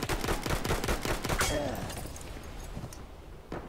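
Gunfire in Battlefield 1, a dense burst of shots and a sniper crack in the first second and a half, loud and close, then fading into a quieter battlefield rumble as a voice talks over it.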